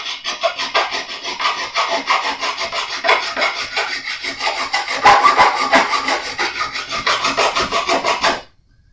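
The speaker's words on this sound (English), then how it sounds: "This file is going to load up a lot faster." A wide file rasps across stainless steel frets on a Jazz Bass neck, loud, close and steady, with quick rhythmic back-and-forth strokes that run continuously for several seconds before stopping abruptly.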